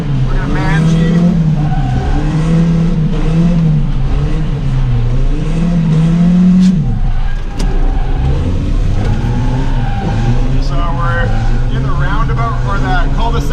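A cheap old Volvo slides sideways on a street after a handbrake entry, its engine revving hard and holding a steady loud drone that rises and falls, with someone talking over it throughout.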